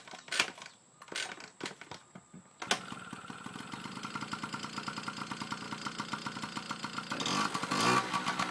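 A 1977 Honda Express moped with an SHA clone carburetor and air filter gives a few sharp knocks, then catches just before the three-second mark and settles into a steady, close, buzzing idle that swells slightly near the end.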